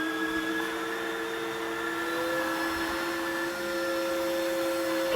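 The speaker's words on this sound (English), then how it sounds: "I'm gonna get my handy little Dreame vacuum mop and we are gonna clean this up very quickly" Steady, close whir of a Dreame wet/dry vacuum mop running in auto mode, with a continuous motor drone and a thin high-pitched whine holding level for the whole stretch, no voices.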